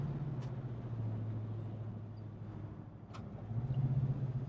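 A 1971 Plymouth Duster hardtop with a 5.7 Hemi and a 3-speed racing transmission accelerates, its engine droning steadily from inside the car and swelling louder toward the end.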